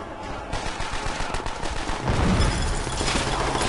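Rapid bursts of gunfire in Call of Duty: World at War crackle continuously, dense and loud, growing heavier midway as shots overlap into a steady barrage.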